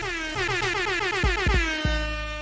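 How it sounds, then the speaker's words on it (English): A loud, blaring air horn sounds continuously, its tone wavering and sliding with a few sharp pitch drops along the way. "I'm waiting for the air horns."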